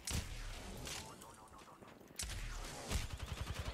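Gunshots in a video game ring out as loud bursts at the start, followed by a quieter stretch and then a rapid run of repeated shots near the end.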